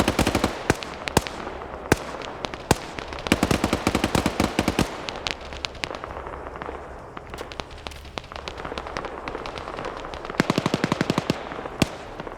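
Sustained video game gunfire as a squad is pinned down by suppressing fire in a modern military shooter match, with dense bursts of rapid automatic shots and single cracks layered at varying distances, loud and continuous without talk.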